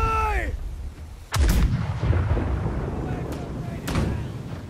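A pirate ship's cannon fires in the game Blackwake, a sharp booming blast followed by rumbling decay and a second fainter report, after a brief in-game tone.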